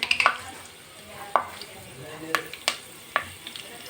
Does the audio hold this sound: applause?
no